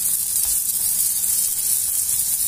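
Small stuffed batbout flatbreads fry in oil in a pan, producing a steady, even hiss and sizzle at close range with no talking.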